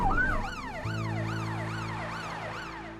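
A rescue vehicle's emergency siren wails in steady rising and falling sweeps, fairly loud, over a constant low engine hum from the road.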